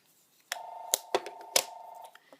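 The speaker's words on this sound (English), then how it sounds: "The phone is ringing." A landline telephone rings in a room with clear repeated electronic tones, close and fairly loud, with no one talking over it.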